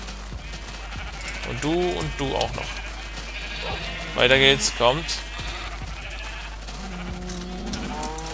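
Sheep in the video game Minecraft give several wavering bleats, some overlapping in a short burst, over a constant low hum while someone talks throughout.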